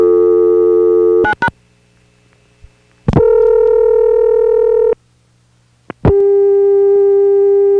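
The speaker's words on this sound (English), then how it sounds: "switches made by the Dan Ray Company that had a funny dial tone" An old Dan Ray telephone switch hums with a steady dial tone that cuts off and restarts several times, separated by short clicks and silent gaps.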